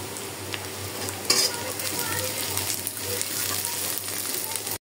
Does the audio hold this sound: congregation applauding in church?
no